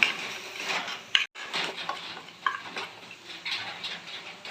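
A spoon stirs fried onions with chili powder in a pan, making a continuous scraping and shuffling with a faint sizzle and a few sharper knocks against the metal. Close and steady, with no talking.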